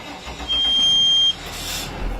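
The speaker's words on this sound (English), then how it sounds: "We're going to go ahead and start the engine" A school bus engine cranks and catches, a loud mechanical burst followed by a steady idle rumble, with a high electronic tone sounding briefly during the start.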